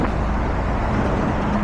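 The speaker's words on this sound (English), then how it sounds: "The car going out." A car passes along a road on a ride into Leicester, a steady broadband roar of engine and tyre noise that stays loud and even throughout, with no speech.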